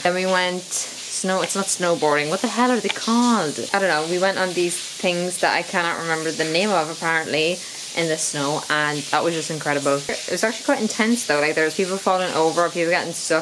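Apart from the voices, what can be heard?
shower running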